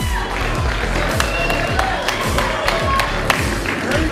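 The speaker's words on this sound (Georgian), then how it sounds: "ბიჭებმა ნახეთ დაიმსახურეს აპლოდისმენტები." A crowd claps and cheers at a wrestling ring event after a bout, with dense, steady applause that fills the room at a fairly close distance.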